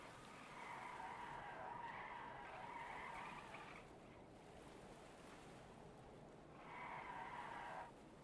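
Container mover vehicle skidding in the video game Stormworks, a long tire screech that fades out and then returns over a constant low rumble, no talking.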